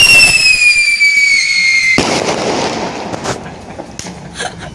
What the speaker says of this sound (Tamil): இப்போ தான் பட்டாசு விட்டுச்சு.